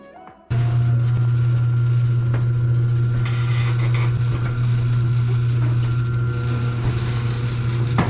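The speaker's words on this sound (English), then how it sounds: "Last thing I need to do is put this wheel on" A wheel goes back onto a salvaged Subaru BRZ in a garage as a ratcheting tool clicks and whirs steadily, loud and close over a constant low mechanical drone, with no talking.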